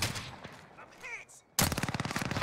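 Sniper rifle fire in Warzone Resurgence, a game match: a sharp shot crack followed by a rapid, loud burst of repeated gunfire in the second half, close and dominant with no talking.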